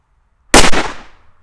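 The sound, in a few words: Exploder firecracker exploding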